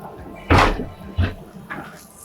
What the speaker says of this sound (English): Very solid sea door here that opens and closes